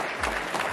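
Crowd applause at a cricket league shirt-launching ceremony: a brief, steady burst of clapping close by, with no pause.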